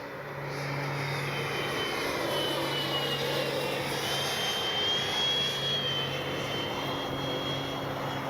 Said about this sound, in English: Man, what a great flying jet.